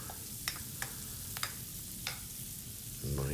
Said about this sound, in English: Then we saute this, make sure everything is good